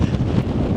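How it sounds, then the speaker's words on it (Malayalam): Strong wind on a chilly seashore blasts the microphone with a close, loud, continuous rumble, brief and unbroken. "കടൽ തീരം കൂടെ ആയത് കാരണം ഇങ്ങനെ കാറ്റ് വീശിക്കൊണ്ടിരിക്കുക."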